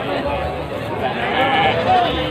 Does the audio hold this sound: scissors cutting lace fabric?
no